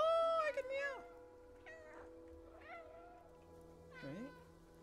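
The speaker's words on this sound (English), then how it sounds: "Oh, I can meow!" A cat meows in the video game Stray, several drawn-out, plaintive meows, one loud and clear at the start and then softer calls spaced a second or so apart, with a quiet background hum.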